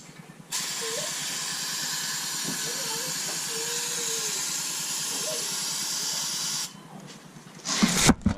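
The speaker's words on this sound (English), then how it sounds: "when you spray the starting fluid in there" A steady, loud aerosol spray of starting fluid into a tire to seat the bead hisses continuously for about six seconds, then cuts off, followed by a brief clatter.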